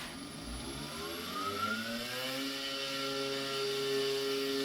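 An MX210 benchtop lathe spindle runs steadily during a cleanup pass, giving a continuous motor hum and whine whose tones glide upward as it spins up, even and fairly quiet with no voices.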